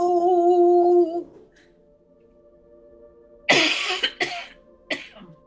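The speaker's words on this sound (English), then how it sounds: "sometimes when I do Reiki or meditation, I do coughing as release for me and for others." After a held tone fades, a person coughs several times close by: two quick harsh bursts, then a lighter cough a moment later.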